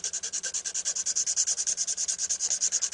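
A hand file works a tip in quick, even back-and-forth strokes, a close, bright rasping rhythm of roughly nine strokes per second, with no other sound.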